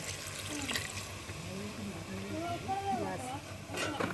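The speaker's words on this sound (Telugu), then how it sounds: "ఇలా చాలా ఆయిల్లో బాగా ఫ్రై అయింది కనుక తగినంత వాటర్ పోస్తుంది." Water goes into goat curry that has been frying in plenty of oil, a close splashing pour with a short hiss, with a person speaking over it much of the time.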